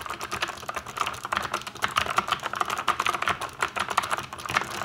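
Rapid, steady typing on a Keychron C1 or C2 mechanical keyboard with clicky, partly lubed keys, a dense run of crisp keystrokes recorded close and alone.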